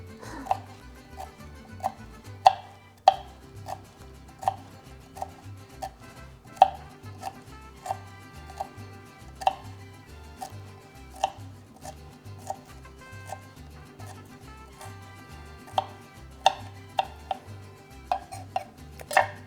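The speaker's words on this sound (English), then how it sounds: "So half a jalapeno, depending how fine you chop it." A knife chops half a jalapeno on a cutting board, each sharp tap landing close and distinct in a steady, slightly uneven rhythm over the whole stretch, with low background music running underneath.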